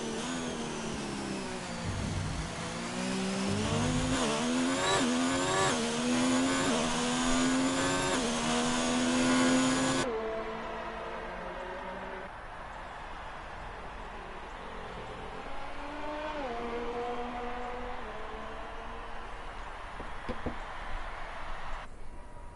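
A racing-game car on an outlap at Bahrain sends out a loud, steady engine whine that climbs through the gears, then drops to a quieter, lower drone partway through with small shifts in pitch.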